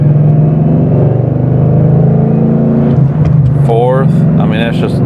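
A 2013 Mustang GT with an MT82 manual gearbox and Exedy clutch pulls hard in low gear, its engine droning loudly, then dips at a shift and climbs again with rising whines, under steady talk.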